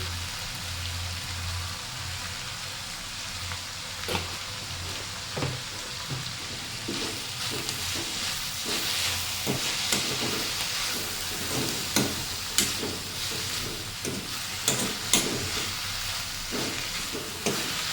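Ponnaganti greens sizzle in a hot pan while a spoon scrapes and stirs them in a steady rhythm of close, distinct clicks, with no talk over the frying.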